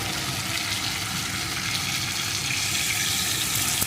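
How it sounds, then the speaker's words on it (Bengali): A little water poured into a pan of frying ivy gourd curry, giving a loud, steady hiss and sizzle that runs close and unbroken throughout with no talking. "এখন এর ভিতরে দিয়ে দেবো সামান্য একটু জল"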